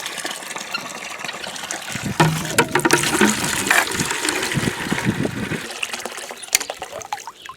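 Water pours and splashes into a bucket, starting quietly and growing into a lively, uneven gush with gurgling, close by.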